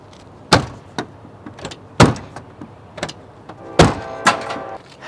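A 1991 BMW 735iL trunk lid being shut, several separate solid thumps and latch clunks spaced across a few seconds, close and fairly loud, with a brief metallic rattle near the end.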